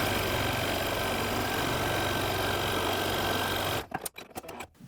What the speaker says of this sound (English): I am going to sew down the two side seams.